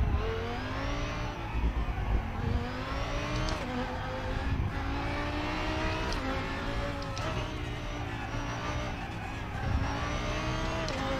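A race car revs and accelerates in a racing video game, engine pitch climbing repeatedly through gear changes, steady and fairly quiet, with faint tire noise and no talk over it.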